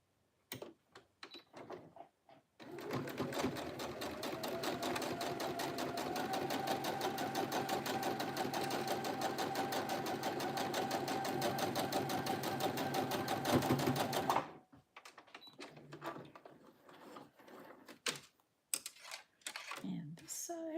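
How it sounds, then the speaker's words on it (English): A sewing machine stitches quilt pieces in one steady, fast run of needle clatter lasting about twelve seconds, with brief speech before and after it. "So I'm just going to give that a quick sew."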